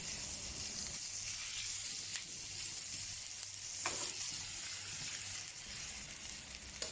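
Pork belly sears in a hot pan with a steady, close hiss of fat, broken by a few sharper crackles and pops as the meat cooks and is turned; no voices.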